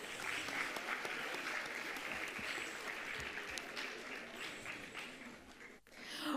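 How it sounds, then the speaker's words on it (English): Audience applause for singers at a convention, a continuous wash of many hands clapping, fairly distant and soft, tapering near the end. "Dear audience, please give them another round of applause"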